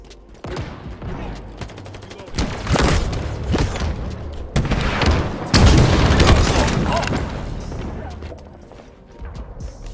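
Rocket explosions in a PvP shooter video game, a run of loud booms and blasts layered with rapid gunfire that swells and crashes several times, with a player talking over the action.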